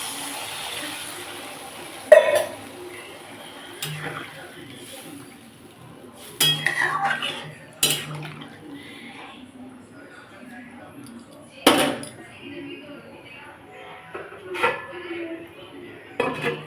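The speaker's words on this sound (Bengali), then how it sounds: "চাপা দিয়ে দিলাম আলুটা সেদ্ধ হওয়ার জন্য" A lid goes onto a pot of potatoes set to boil for raw banana kofta curry, with scattered clinks and clatters of metal cookware over a quiet kitchen background.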